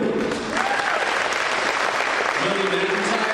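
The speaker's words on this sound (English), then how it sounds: "So please, round of applause for Nina Gordon," Audience applause at a senior awards night, steady continuous clapping from a large crowd throughout, filling the room at a moderate level.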